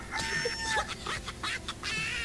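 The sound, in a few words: chicken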